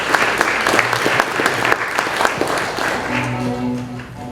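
A gala audience applauds a student receiving a volunteer award, brisk, moderately loud clapping from a crowd that tapers slightly toward the end, with a faint voice and background tones underneath.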